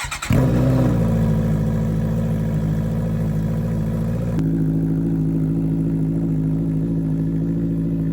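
A motorcycle engine with a newly fitted exhaust idles loud and close with a deep, steady exhaust burble; partway through the pitch steps up slightly and holds at a higher idle.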